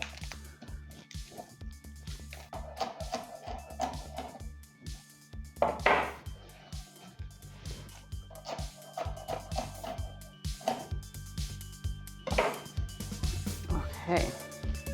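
Knife taps and thuds on a cutting board in irregular bursts while chopping vegetables such as green pepper for coleslaw, with clinks of dishes and a person talking throughout.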